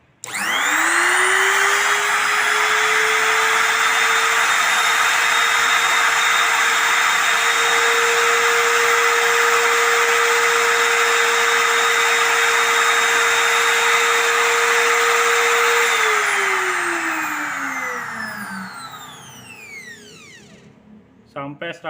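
A Modern MT370 electric wood trimmer router whirs loudly and steadily at one high pitch for about fifteen seconds, then the motor is switched off and winds down, its whine sliding lower until it fades out.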